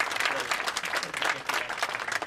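An audience at a community event applauds, a lively burst of many hands clapping with slight surges in intensity, close and fairly loud, running on without speech.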